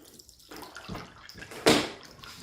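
Water from a tabletop indoor fountain with an LED light trickles and splashes as its pump starts running, with a few gurgling pours and one louder splash, close and fairly quiet.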